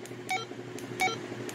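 Menu beeps from a Baofeng UV-S9 tri-band handheld radio: two short electronic beep clusters about 0.7 seconds apart, faint at maximum volume over a steady low background hum.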